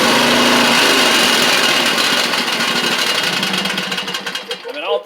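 A Huskee Supreme riding mower engine idles loudly and steadily, its dense mechanical rattle running throughout with a slight stumble and some unsteadiness near the end.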